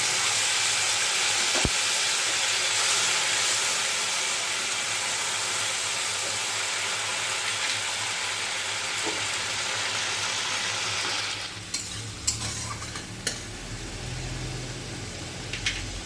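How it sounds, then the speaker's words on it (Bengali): Bay leaf, whole cumin and a ground tomato and green chili paste hit hot oil with a loud, steady hiss that softens after about eleven seconds into quieter bubbling and scattered utensil clinks, with no talking. "তেজপাতা, গোটা জিরে, গ্রাইন্ড করে রাখা টমেটো আর কাঁচা লঙ্কার পেস্টটা আমি তেলে দিয়ে দিচ্ছি।"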